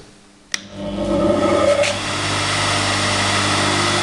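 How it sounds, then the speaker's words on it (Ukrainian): A click, then a small unmounted electric motor sitting loose on a table whirs up and settles into a steady hum, fairly loud and close. "Мотор є не закріплений в мене."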